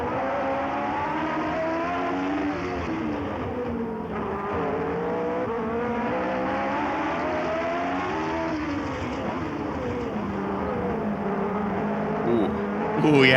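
A Tyrrell 008 Formula One car with a 3-liter four-valve Cosworth V8 drifts, its engine howling in continuous rising and falling revs as the throttle is worked through oversteer corrections, loud and sustained with a brief squeal near the end.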